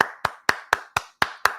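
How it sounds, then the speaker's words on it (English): Hands clap seven times in an even, steady rhythm, each clap sharp, close and loud with no talk over them. "So, hey, I'm clapping"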